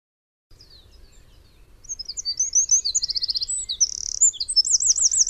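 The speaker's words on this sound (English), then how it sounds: "here's a little bit of wren song for you" A wren singing alone, a rapid run of high, bright chirps that breaks into a quick rattling trill in the middle and goes on into more fast warbling notes, clear and fairly close over a faint low background hum.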